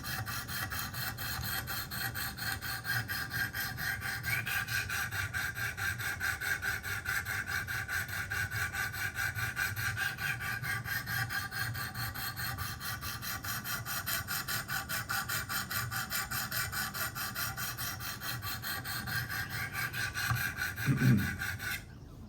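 An Emerson by Kershaw knife blade is sharpened on coarse 100 grit Wicked Edge stones, making continuous close rasping strokes in a steady back-and-forth rhythm that end with a brief knock.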